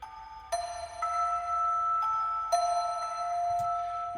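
Clear bell strikes from a Spitfire Audio Labs bells sample sounding a few times in a slow sequence, each chiming with a bright ringing tone that sustains and overlaps the next. Moderately quiet, no voices.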